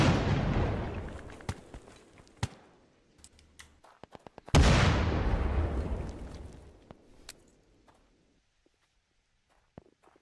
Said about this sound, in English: Grenade, grenade, grenade!